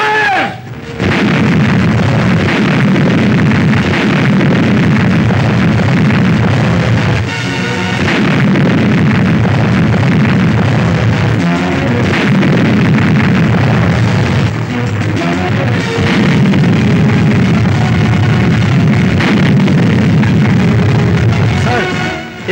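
Loud, sustained artillery and explosion barrage in a Pakistani war film, heavy booms rolling almost continuously for over twenty seconds with brief dips, dense and close, with no clear speech.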